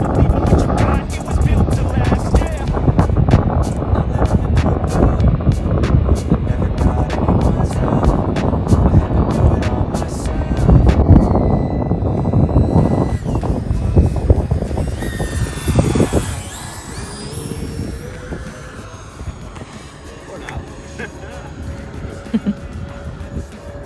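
A giant custom RC airliner on a touch and go, its engines roaring close with gritty wheel rumble along the runway, then the sound thinning and fading as it climbs away.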